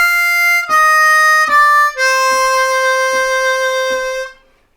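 A Bb harmonica plays a blues lick with vibrato: a few sustained, bright reedy notes with clear attacks, close and loud, alone without talk, ending in a quick fade.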